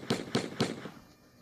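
Three evenly spaced shots from guns in the video game Memes War pop in quick succession, fairly loud and sharp, then fade into quiet.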